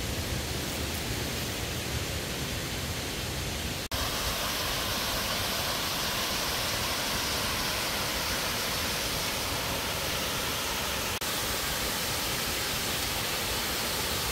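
Steady, loud broadband roar of a jungle waterfall at a hidden site in Sekong, southern Laos, filling the scene continuously with no voices.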